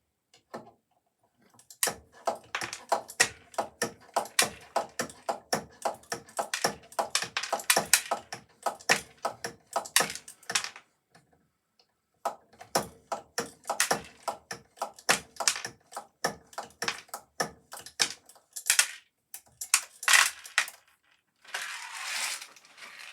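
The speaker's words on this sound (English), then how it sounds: "So I'll just chop a few cores and then I'll move it over to the press." Lead cores for slug swaging being chopped with a cutting tool, heard as a long run of sharp, close metallic clicks and snaps in a brisk, fairly regular rhythm, broken by a short pause midway and a few scraping sounds at the end.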